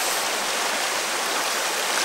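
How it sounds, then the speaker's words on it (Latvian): A rocky river rapids flows between stone and cliff along the Amata nature trail in winter, a loud, dense, steady rushing roar of water heard close up and continuous throughout. "pa vidam tek krāčaina upe"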